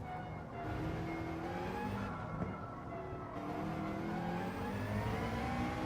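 A race car in Gran Turismo 7 holds a steady, loud engine drone with shifting pitch, easing off and building again through a braking zone into a chicane, alone without voices.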